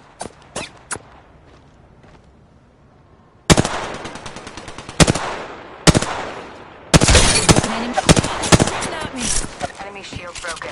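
Apex Legends gunfire comes in bursts: a few sharp early shots, then a heavy rapid burst, isolated loud cracks, and a long sustained volley of automatic fire with rattling hits, loud and close.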